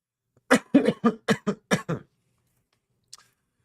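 A burst of six or seven harsh, close coughs in quick succession, then silence and one small final cough.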